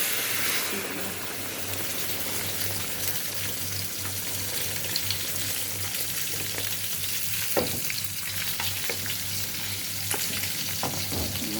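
A hot pan of banana-flower and hilsa curry hisses and sizzles steadily as broth is poured in, with a constant low bubbling texture and occasional soft clicks of stirring, heard close and alone.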